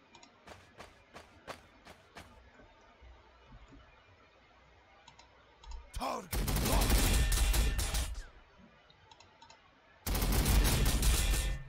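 Units in the Warhammer 40,000: Sanctus Reach strategy game open fire: a few sharp clicks first, then two long, loud bursts of sustained gunfire roar with a pause between them, close and dense.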